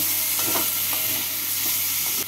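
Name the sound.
stirring boiled pieces with spices in a pan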